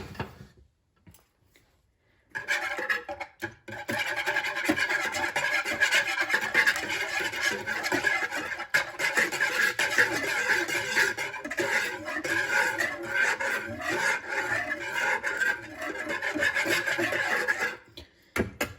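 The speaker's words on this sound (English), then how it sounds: "And we are going to whisk them." A whisk rasps continuously against a bowl while egg whites and yolks are beaten for sufganiyot donuts, a loud scraping rhythm running for about fifteen seconds after a short quiet start.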